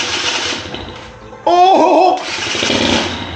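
An old motorcycle engine, restored after 31 years idle with a cleaned carburetor and a fresh spark plug, briefly catches and runs for about half a second with a rising buzz. Background noise surrounds it, and a voice exclaims once.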